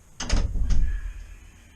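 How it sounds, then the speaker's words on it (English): A door is pushed shut nearby with a short scrape and a dull thud, then a fainter knock, before quiet. "Shut this door."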